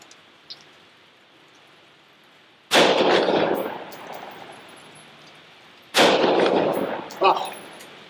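Two loud, sharp blasts from a Remington 7615 pump shotgun fired outdoors, about three seconds apart, each with a long decaying tail and a quieter clack after the second shot.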